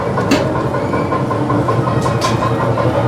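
Small children's tractor ride at an amusement park, its engine giving a steady, loud, continuous running drone close by, with a faint high hiss coming through twice.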